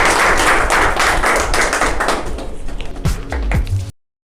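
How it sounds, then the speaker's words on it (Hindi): Loud, dense applause from an audience at a monthly rewards and recognition award ceremony, steady for about four seconds before ending abruptly. "एक बार जोरदार तालियां उनके लिए"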